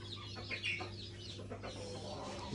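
Chickens cluck softly in short bursts over a low steady hum, fairly close, with no talking.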